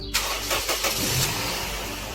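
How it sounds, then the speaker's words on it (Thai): A Toyota Soluna Vios 1.5 E automatic cranks briefly and fires up at once, then settles into a steady, smooth idle, close and fairly loud. "เครื่องยนต์สตาร์ททีเดียวติดเลยนะครับ"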